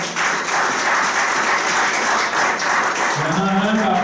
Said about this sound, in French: Vous pouvez acclamer pour les conseillers.